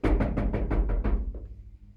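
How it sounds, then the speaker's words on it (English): Knocking at a door in a staging of Macbeth: a loud, close series of about six evenly spaced heavy knocks, followed by a fainter final thud as it dies away, with no voices. "Hark, more knocking."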